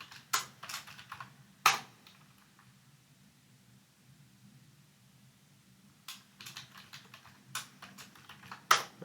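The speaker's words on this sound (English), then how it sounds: "I need to type slowly." Clicky keystrokes on a computer keyboard while entering a kubectl command, short bursts of taps in quick succession separated by a long quiet pause, fairly close and alone.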